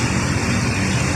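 A brand-new Rusi Macho 175cc motorcycle engine idles steadily with a dense low rumble after carburetor adjustment, continuous and close, with no talking.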